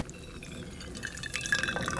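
Water is poured to make coffee at an off-road Jeep overland campsite, a soft close trickle and dripping into a vessel, faint against light outdoor background noise.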